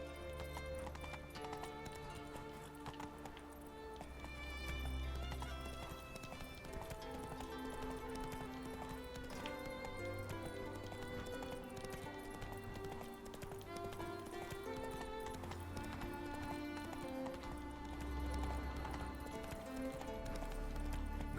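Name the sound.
horse galloping in video game The Witcher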